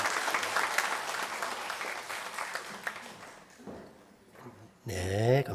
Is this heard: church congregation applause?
yes